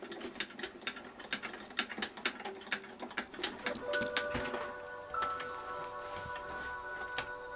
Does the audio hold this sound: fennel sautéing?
no